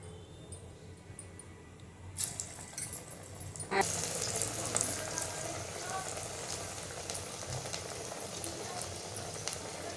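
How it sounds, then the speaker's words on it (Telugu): Masala vada batter dropped into hot oil, starting as a quiet hiss that jumps to a steady, broad frying sizzle after a couple of seconds and stays loud and dense throughout. "ఇప్పుడు ఆయిల్ వేడెక్కిందండి. వడలు వేయాలి."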